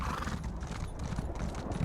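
A horse in The Elder Scrolls Online galloping, a fast continuous drumming of hooves with a whinny at the start, close and loud throughout the short burst, with no talk over it.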